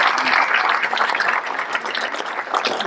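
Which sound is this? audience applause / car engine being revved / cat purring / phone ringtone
audience applause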